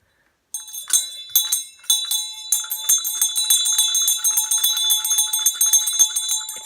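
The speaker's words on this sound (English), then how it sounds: "It's a soft, gentle bell." A soft, gentle bell is rung up the stairs, a bright tinkling with a steady stream of rapid light strikes and shimmering overtones, moderately near and with no speech.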